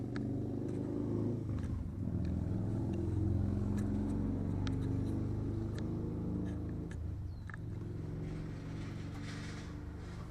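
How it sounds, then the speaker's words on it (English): A Model T truck rolls past at an old car show, its low engine rumble steady and fairly close across the whole stretch, with no talk over it. "There goes the Model T truck if you see it."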